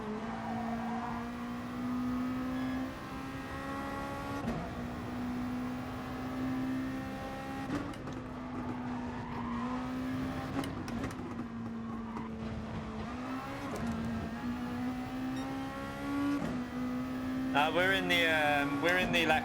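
A Lexus race car in Gran Turismo Sport holds a steady high engine drone that dips and climbs through gear changes, with a brief tire squeal near the end and someone talking over it.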